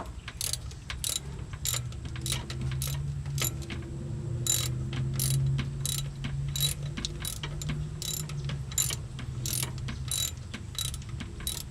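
A hand ratchet loosens a motor mount bolt on a Square Body truck, clicking in quick, even rounds of pawl ticks with short breaks, close and clear over a low steady background hum, with no talk.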